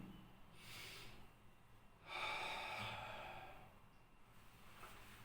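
Two slow, deep breaths drawn in through the nostrils as a breathing exercise for bronchial asthma, each a soft airy rush lasting about a second, quiet and close, with no talking.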